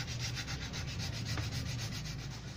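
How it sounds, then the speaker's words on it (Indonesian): Rhythmic back-and-forth rasping of sandpaper rubbed by hand over car body filler, steady strokes close by. "sekarang lanjut kita mulai amplas"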